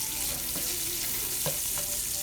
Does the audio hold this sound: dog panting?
no